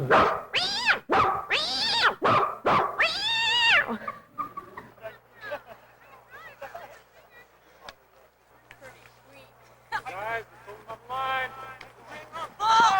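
A person imitates a dog and cat fighting, with loud harmonic yowls and cat-like cries at the start, then quieter scuffling and voices, and more whiny vocal imitation near the end.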